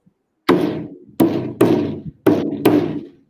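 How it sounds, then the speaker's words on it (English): Five sharp, resonant thumps on a caja, an Argentine frame drum, played with its string pressed against the head, each strike ringing briefly before the next in an uneven rhythm, close and fairly loud. "it has this string here that you can press, and then it sounds like this."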